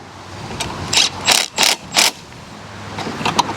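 Several sharp metallic clicks and clacks as a mower's front height adjuster on a Toro TimeMaster is set and locked into place, a close cluster of about four bursts at the midpoint with lighter clicks before and after.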